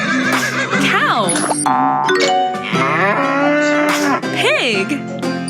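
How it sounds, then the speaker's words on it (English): A cow moos in drawn-out, loud calls, mixed with bright chime-like effects and other animal sounds such as a whinny. "Cow."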